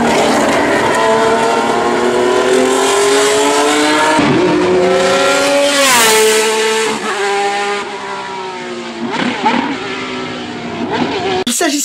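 Ferrari V12 racing car screaming to high revs on a circuit at Val de Vienne, a loud shrill engine note rising and falling through repeated shifts and passes, with a brief lull near the end.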